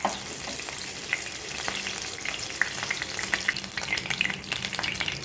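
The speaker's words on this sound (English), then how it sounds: "We have to fry all the vegetables." Vegetables for veg kadai frying in a pan, a steady loud sizzle with crackling pops and occasional stirring scrapes throughout, no voices.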